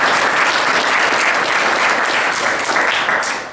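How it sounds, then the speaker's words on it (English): Symposium audience at a sports law event applauding a panelist, a dense, loud wash of many hands clapping continuously, tapering off near the end. "So let's give Mr. Anderson a round of applause."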